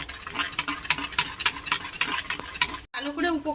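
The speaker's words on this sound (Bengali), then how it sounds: "এবারে খুব ভালো করে মিশিয়ে নেব" Semolina cake batter being mixed in a bowl, a steady run of soft rhythmic scraping and stirring strokes close by, with a brief pause near the end, under a voice.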